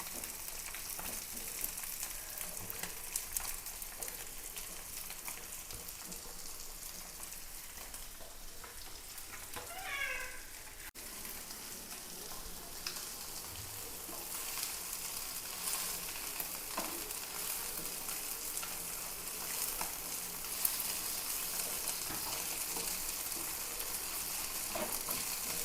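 Tapioca pieces fry in oil in a pan, giving a faint, steady crackling sizzle that runs on alone throughout, with a brief high squeak near the middle.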